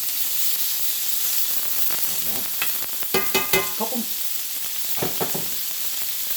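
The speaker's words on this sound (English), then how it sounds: "I want to sear these little steak cutlets quick and fast" Small steak cutlets sear in olive oil in a hot pan, giving a continuous close sizzle. A cluster of sharper scrapes and clinks from utensils lands midway, with a couple more near the end.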